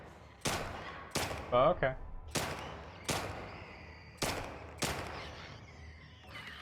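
Gunshots ring out in The Last of Us Part II, six sharp broadband cracks spaced about a second apart, each with a short decaying tail, while a voice speaks briefly between them.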